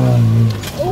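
A Jeep on Nexen Roadian MTX tires climbs a hill, its engine droning steadily before bogging and fading as it loses momentum, then a brief rising rev near the end.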